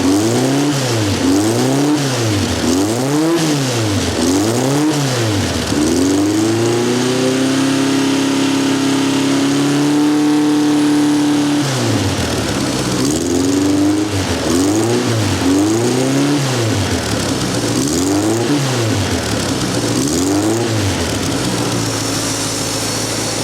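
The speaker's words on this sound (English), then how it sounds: "let's see how well the engine is picking up" A car engine revs up and down repeatedly in steady, rising-and-falling pulses after tuning of its Weber carburetor, holds a higher steady pitch for a few seconds, then resumes revving.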